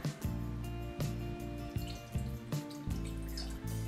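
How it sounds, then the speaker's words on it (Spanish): A glass of water is poured into a pan over medium heat while making turmeric golden milk; a steady, close liquid stream with small splashy accents runs for several seconds, with no talk. "vamos a añadir el vaso de agua"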